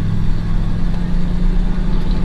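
A 1952 lowered truck engine idles steadily at close range, a low continuous rumble with an even droning hum throughout.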